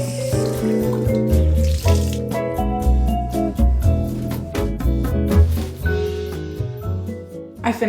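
A bathroom sink tap runs steadily while the basin is cleaned, a continuous wash of flowing water beneath prominent background music.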